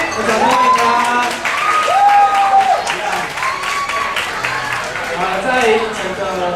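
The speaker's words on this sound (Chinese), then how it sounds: "我们掌声欢迎他" Audience applause welcoming a student at a church gospel dinner gathering, a continuous patter of clapping lasting several seconds, mixed with sustained tonal sounds from music or voices in the room.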